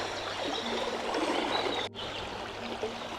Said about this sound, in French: Et vraiment une magnifique rivière, hein.